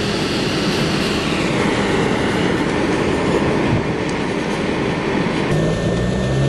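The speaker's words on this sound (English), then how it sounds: "I'm going to be working this button here for the smoke machine." A stage smoke machine runs continuously and loud up close, a steady broadband roar with a low rumble that fills the space without pause; no talking is heard over it.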